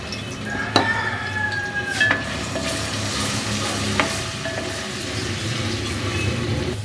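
Garlic and ginger tempering sizzles and crackles steadily in hot oil, with a few sharp clinks of a utensil against the pan.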